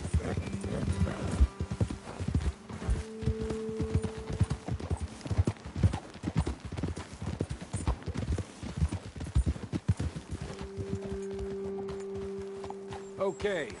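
Steady clip-clop of horse hooves trotting close by in Red Dead Redemption 2, a continuous rhythmic clatter with a low hum and brief tonal sounds in the background.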